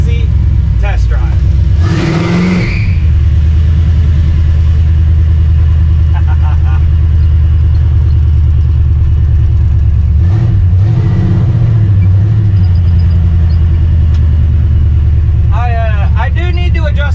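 A truck on a slow, easy test drive, with a loud, continuous low engine rumble throughout and brief swells in revving. Voices speak now and then over the running motor.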